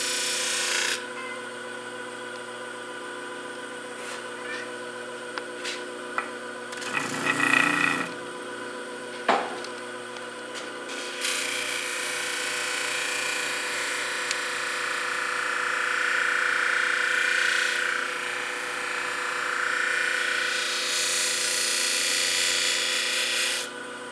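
Hoof knife blade worked against a buffing surface charged with rouge, a steady rasping rub running close and continuous, with a brief louder burst of scraping midway and a few sharp clicks.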